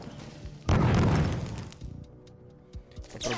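A shot in the video game Wormix bursts into a loud, booming explosion that swells suddenly, rumbles for about a second and fades, followed by scattered small clicks and thuds.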